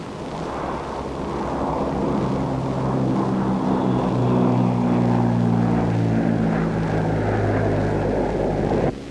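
HC-130 aircraft with turboprop engines and propellers, an Air Force rescue plane, giving a loud, steady, continuous drone with a low tonal hum that swells slightly mid-way and holds without any talk.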